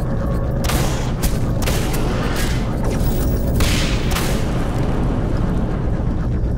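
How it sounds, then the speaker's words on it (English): Autocannon and rocket fire from an elite Spetsnaz squad in the video game Singularity, a dense, continuous barrage of loud booms and blasts with no break. "we now have an ambush by a whole squad of elite Spetsnaz, armed with autocannons and rocket launchers"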